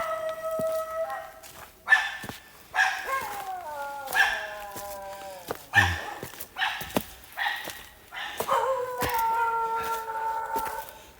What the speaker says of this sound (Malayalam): എൻ്റെ ചുറ്റും പട്ടികളാണ് ഒരു രക്ഷയില്ല കേട്ടോ